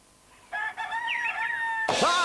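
A rooster crowing in a Kellogg's Cornflakes advert, a drawn-out cock-a-doodle-doo followed by a second rising squawk, loud and close with a tonal, slightly processed quality.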